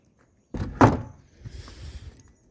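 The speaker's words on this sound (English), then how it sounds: "Just shut the door." A door in a bedroom of an ocean-view villa in Las Terrenas, Dominican Republic, swings and shuts with a single close thud, followed by a soft rattle and settling sounds.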